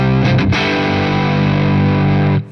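An electric guitar with Seymour Duncan Jupiter Rails pickups plays a loud, sustained distorted hard-rock chord through the medium-gain channel of a Triple Crown amp, ringing steadily before being cut off abruptly near the end.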